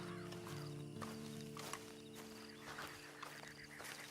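A horse in the Red Dead Online video game clops along at a walk, hooves thudding steadily and faintly over a quiet background hum.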